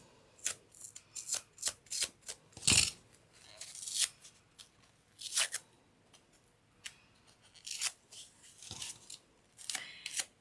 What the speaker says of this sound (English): Just lift it up and peel it.